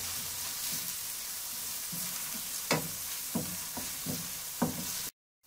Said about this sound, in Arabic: ملي كتشحر البصله